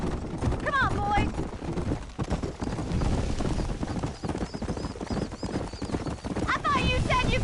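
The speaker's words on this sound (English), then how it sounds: "I think you chose the wrong horse, Miss McFarland." Horse hooves clip-clop at a steady gallop in the Red Dead Redemption video game, joined by a brief whinny, with game music, loud effects and voices talking over the hoofbeats throughout.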